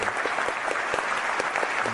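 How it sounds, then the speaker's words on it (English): Dense, steady applause from a crowd, many hands clapping continuously at an even level with no talk over it, a short burst used as a sound effect. "Yeah, applause on that"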